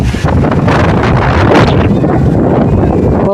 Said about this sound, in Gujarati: પવનની સ્પીડ ફૂલ છે.